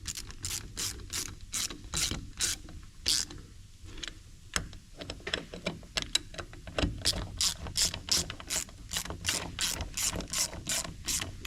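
A socket ratchet tightens carburetor bolts on an antique Farmall M tractor, with close, crisp rapid clicking in repeated bursts of strokes and short pauses between them, fairly loud and without talk.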